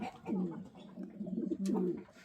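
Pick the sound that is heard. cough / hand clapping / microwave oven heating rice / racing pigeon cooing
racing pigeon cooing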